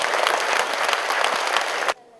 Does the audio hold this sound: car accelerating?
no